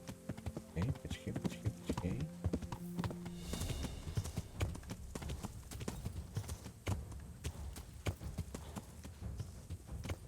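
Horse hooves clip-clop steadily in the medieval video game Kingdom Come: Deliverance, a brisk continuous rhythm with a brief tonal passage early on and someone talking over it.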